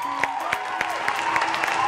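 An audience claps for a singer: brief, evenly spaced claps in a steady rhythm, moderately loud, over a low background murmur.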